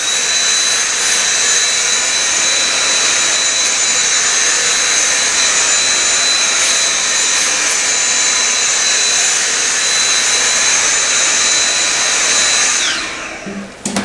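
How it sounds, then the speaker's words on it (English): A vacuum cleaner runs steadily and loudly, drawing dust off the top of a computer case on the floor. Its whine holds constant for a long stretch, then cuts off near the end. "you can just vacuum the top of this"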